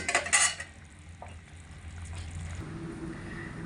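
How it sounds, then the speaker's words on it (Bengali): A pan is handled with metallic clinks and scrapes at the start as mustard-poppy hilsa curry is moved into a separate dish, then a steady low kitchen hum continues with no talk. "এবার আমি নামিয়ে নেবো আলাদা একটা পাত্রে"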